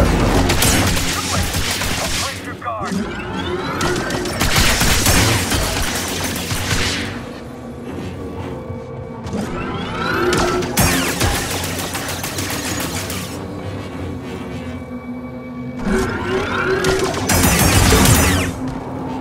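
Blaster fire during a firefight in the video game Star Wars Jedi Survivor, loud rapid volleys in several bursts separated by brief lulls, with crashes and impacts mixed in.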